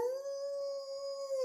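Dogs howl together in a long, steady, sustained wail with no break, loud and close, with no talking over it.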